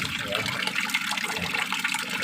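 Water runs from a tap over mung beans being washed, a close, steady splashing rush with no talk over it.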